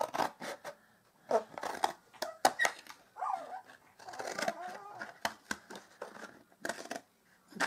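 Scissors snip and crunch through a pink-decorated milk carton along its score line, the short cutting strokes and papery crinkles repeating at close range while a person talks over them.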